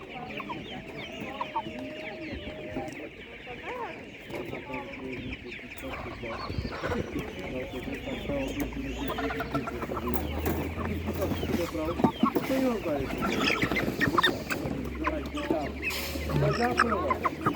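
Large broiler chickens clucking at a livestock market, in a busy crowd, with overlapping bird calls and people talking nearby throughout; a low rumble joins partway through.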